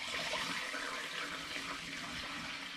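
Wort for an all-grain sweet rauchbier is poured through a sieve and funnel into a demijohn. A steady, full rush of liquid runs without a break for the whole stretch, close up and alone.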